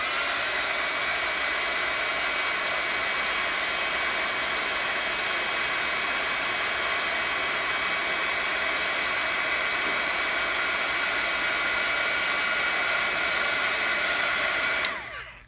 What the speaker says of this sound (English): And the heat gun is going to heat up the embossing powder and make it stick.